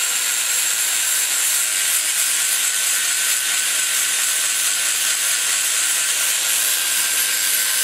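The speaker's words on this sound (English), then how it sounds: "I go in here with the stone. This is a mounted point." A mounted grinding stone works the valve seat of an aluminum Edelbrock E cylinder head, making a steady, continuous high-pitched hissing grind with no pauses and no voices.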